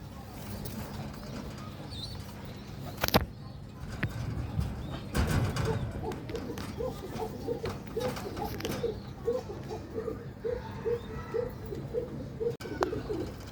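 Home-bred pigeons, including a Danish hen, coo in a loft with a soft, repeated rolling rhythm at moderate distance, alongside occasional knocks and faint voices.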